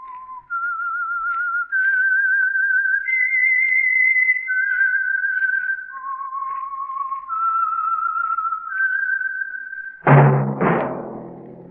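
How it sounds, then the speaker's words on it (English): A lone whistled theme from the old radio drama The Whistler is heard as a slow melody of long held notes stepping up and down. A brief loud burst of other sound follows it at the end. "That whistle is your signal for the Signal Oil Program, The Whistler."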